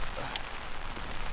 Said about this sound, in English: Other than over there, it looks like nothing but rain